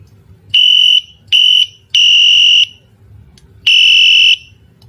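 Electronic safety whistle, USB Gen 2 model, giving four loud, piercing high-pitched alarm blasts of varying length separated by short gaps, close up.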